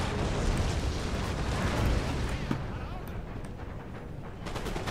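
Musket volleys from massed line infantry in Empire: Total War thunder in a dense, continuous battle roar, with overlapping gunfire and booming bursts filling the whole stretch.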